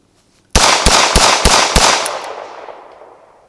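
Five sharp, loud gunshots from a Smith & Wesson 637 snub-nose revolver fired in quick succession, each a hard crack, followed by a long fading outdoor echo with no talking.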